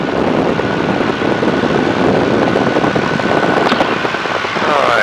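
A Tiger Moth biplane's engine drones loud and steady throughout, with propeller and wind noise filling the cabin as it flies over Duxford after throttling back and levelling off.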